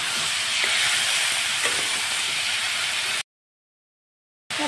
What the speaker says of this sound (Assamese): মুৰ্গী মাংসখিনি এনেদৰে তেলত অলপ ভাজি ল'ম, অলপ লৰাই দি আছোঁ।